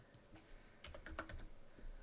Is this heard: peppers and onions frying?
no